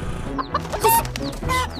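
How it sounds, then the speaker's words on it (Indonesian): A chicken clucks in short, close bursts, a few quick calls over a faint background with soft music. "ada ayam."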